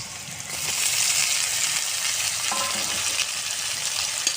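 Prawns fry together with ridge gourd, seasoned with salt and turmeric, in a pan, making a continuous loud, hissing sizzle with occasional soft stirring sounds and no talking.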